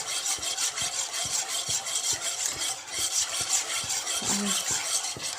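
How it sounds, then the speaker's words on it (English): Khandvi batter of gram flour being stirred in a pan, a continuous rhythmic scraping and rubbing of a spoon against the pan bottom, close and steady with no talking. "so keep on stirring the batter"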